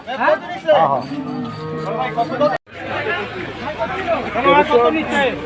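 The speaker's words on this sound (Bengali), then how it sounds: "সুন্দর সুন্দর গরু" Cattle low and moo at a busy Qurbani cattle market in Hozrotpur, Bangladesh, with long drawn calls rising over constant crowd chatter and nearby talking voices.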